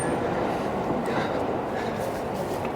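A steady rumble of a Tokaido Line train rolling past at a distance near Totsuka Station, continuous and fairly loud throughout, with no clear voices.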